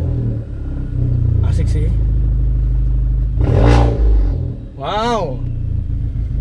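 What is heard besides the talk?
VW Scirocco 1.4 TSI engine startup, custom straight-pipe exhaust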